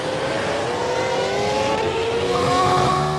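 Formula 1 race car engine in a video game, a steady high whine with rising pitch as the car accelerates, loud and close with no talk.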